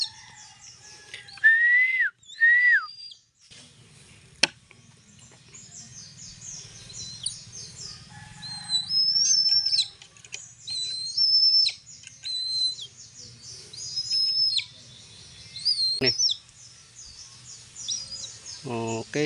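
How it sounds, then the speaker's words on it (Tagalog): Bird whistling calls, a few clear rising and falling whistles repeated at intervals, fairly close, over a low background hum and occasional clicks. "Yung huni na ganyan, madali mo siyang mahanap."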